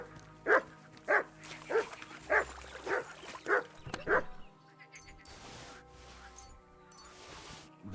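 Mutt, a dog in Kingdom Come: Deliverance II, lets out about seven sharp barks in a steady rhythm, fairly close and loud, then falls quiet while faint ambient game sound continues.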